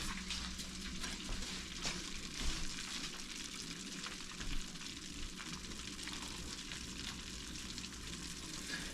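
Razor clam pieces fry in grease at 350 degrees with a steady, even sizzle and fine crackle that holds throughout, fairly close and with no talking over it.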